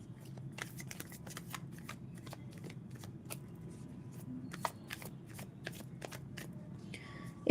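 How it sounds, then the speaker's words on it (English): Tarot deck being shuffled by hand, a quick run of crisp riffling card flicks in an irregular rhythm, close and quiet over a soft background hum. "All right, let's also shuffle this one."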